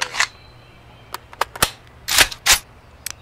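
Single-fire gunshots in the survival game Road to Vostok, heard as a string of sharp, close cracks at irregular intervals against a quiet background, with no talking.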